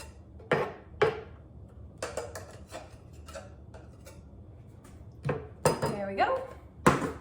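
A knife chops food on a cutting board during home meal prep, giving a handful of sharp, irregular knocks with quiet pauses and a faint voice in between.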